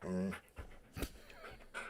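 A dog pants in quick, breathy huffs close by, with brief whimpering tones, while a person talks over it.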